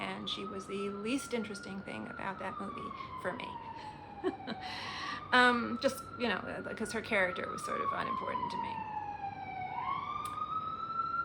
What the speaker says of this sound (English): Sorry for the sirens. This is New York City.